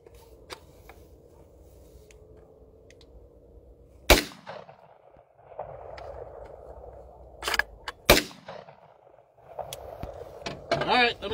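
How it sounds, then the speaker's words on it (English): Guns, including a shotgun, firing outdoors, two sharp loud reports about four seconds apart followed by a cluster of quicker cracks near the end, over quiet background rumble and faint voices. "I'm gonna shoot two more"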